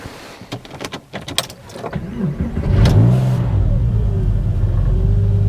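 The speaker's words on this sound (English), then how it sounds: "Oh, hang on, I need to start the car up." A car engine cranks and catches after a few clicks and knocks, then settles into a steady, close idle rumble with a brief rev.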